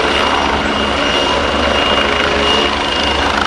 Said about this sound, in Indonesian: Ini helikopter rescue.